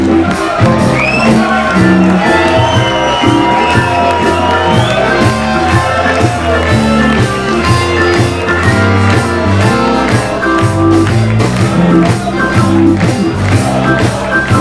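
A village festival crowd in Allschwil shouts and whoops in support of a performer while a loud live dialect-rock band keeps playing; the cheering sits inside the music and does not stand alone.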